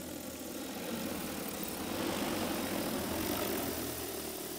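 A DJI Agras T50 agricultural spray drone flies back toward its home point to land, its rotors a steady broad whirring drone that swells slightly as it comes nearer, moderately loud outdoors with no talking.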